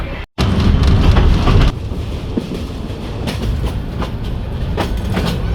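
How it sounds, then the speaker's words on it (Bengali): A passenger train pulls out on the run from Bonarpara toward Rangpur, heard from inside as a loud continuous rumble with rattling wheel clatter and rhythmic clicks, with no voices. "দেখা যাক আগে ট্রেন ছাড়ুক"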